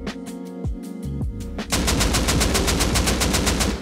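Automatic gunfire in the survival game Rust: a few separated bursts, then a sustained rapid stream of loud shots from about halfway through, close and with no voices.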